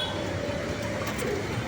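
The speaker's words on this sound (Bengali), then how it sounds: "বেশ কয়েক জোড়া কবুতরই আছে।" Pigeons kept in pairs at a sidewalk pigeon farm in Tejgaon, Dhaka, coo softly in low murmuring calls amid steady street noise, with a voice faintly in the background.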